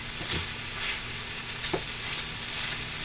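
Fajita ingredients brown in a hot pan with a steady, close sizzle and frying crackle, plus occasional stirring scrapes, no voices.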